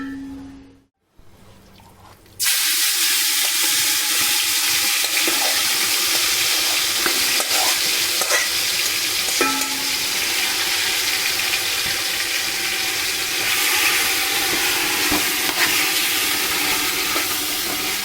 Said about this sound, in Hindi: अब नेक्स्ट स्टेप है, इसके अंदर हमें हमारा मैरिनेटेड चिकन ऐड करना है